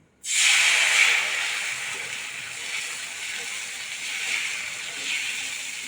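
Thin neer dosa batter hits a hot tava that has been wiped with a drop of oil, bursting into a loud, close hiss that slowly eases into a steady sizzle and keeps going.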